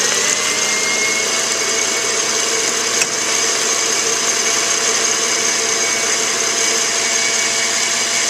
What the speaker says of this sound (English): Now we're going to beat this until it forms soft peaks.